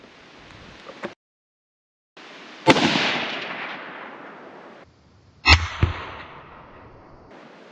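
Two loud, sharp .308 Winchester rifle shots ring out outdoors at a range, each with a long decaying echo, separated by a few seconds of steady wind noise.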